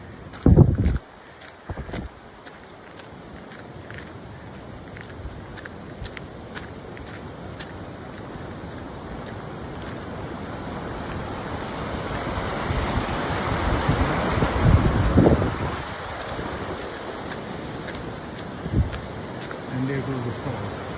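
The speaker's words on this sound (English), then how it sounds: "And there goes the falls." A river waterfall beside a hiking trail sends up a steady, moderately loud broadband roar of falling water, swelling slightly over time, broken by a few brief footstep-like thumps and handling knocks.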